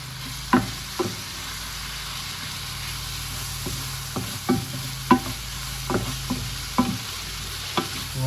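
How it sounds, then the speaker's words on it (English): Stir-fry coated in black soy sauce being mixed in a hot pan, a continuous low sizzle punctuated by about a dozen irregular scraping clacks of the utensil against the pan, close and clear. "And then mix it all up"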